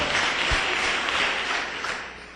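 A church congregation claps together in steady applause, moderately loud and diffuse, fading slightly toward the end.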